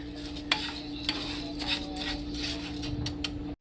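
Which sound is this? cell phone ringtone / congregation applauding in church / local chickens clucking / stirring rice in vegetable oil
stirring rice in vegetable oil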